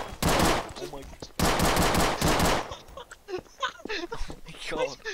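Bursts of rapid automatic gunfire in the video game Garry's Mod, two loud sustained volleys near the start, followed by excited talk over quieter game sounds.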